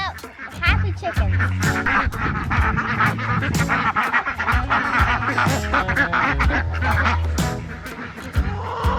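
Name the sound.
ducks quacking on a farm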